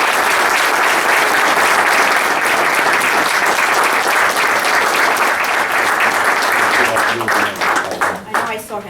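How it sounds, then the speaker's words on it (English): Applause from the audience at a board of education meeting, dense sustained clapping that fills the room at a strong level for most of the span before thinning and tapering off near the end. "he deserves a round of applause for his dedication to the safety of our children"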